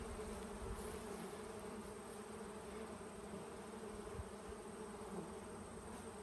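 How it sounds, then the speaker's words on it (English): Bees buzz around an open beehive in a dense, even drone that holds steady throughout, close and continuous with no voices. "Lots of bees flying around, aren't there?"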